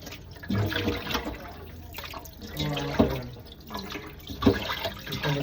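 Water trickles and splashes unevenly from a tap, with gurgling bursts and intermittent drips close by.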